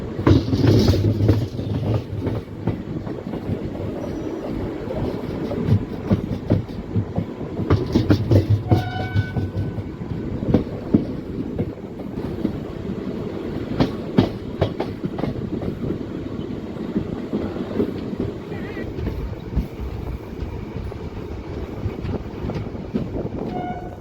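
A passenger train on the Pandharpur to Satara line rolls along continuously, its wheels clattering over rail joints in a rhythmic clickety-clack amid rumbling carriage noise, with no speech.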